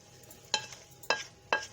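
Masala being stirred into a bone-marrow meat curry in a pan, with three evenly spaced scraping strokes of a spoon over a faint sizzle, close by and without talking.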